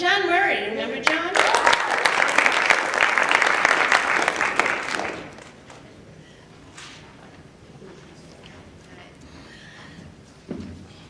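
Graduation-ceremony audience clapping loudly for about five seconds, dense and even, then fading to a few scattered claps and room noise.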